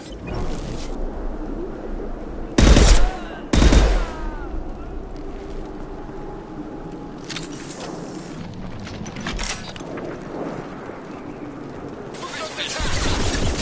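Suppressive gunfire in the video game Mass Effect 2: two loud, booming bursts stand out over a continuous backdrop of battle noise, with in-game voices talking throughout.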